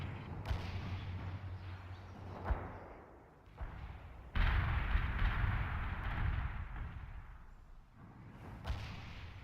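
Missile strike explosions in the World in Conflict strategy game: several heavy booming impacts, a sharp blast early, a big sustained rumbling detonation midway and another thump near the end, deep and loud with no talk.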